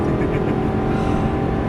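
Lamborghini Gallardo LP550-2 on a racing circuit, engine held on throttle with a loud, close, sustained growl and a steady tone throughout.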